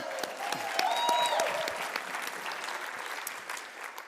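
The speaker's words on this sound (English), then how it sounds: "Let's give Meredith a round of applause" An audience claps for a presenter at a company Super Saturday event, a full, steady round of applause filling the whole stretch, with a brief whistle-like tone rising over it early on.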